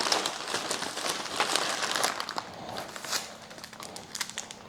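Plastic wrap and packing tape crinkle and crackle around a small kitchen appliance being wrapped for a moving box, a close, busy rustling with sharp tape-pulling bursts and no talk.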